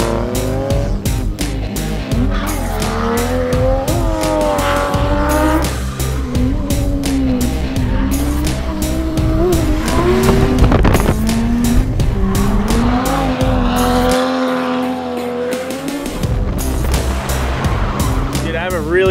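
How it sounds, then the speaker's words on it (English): Lexus IS300 drift car with a slipping clutch doing street burnouts: a loud, sustained engine roar with rising and falling revs and screeching tires throughout, briefly dropping near the end before surging again. "We gotta do street burnouts."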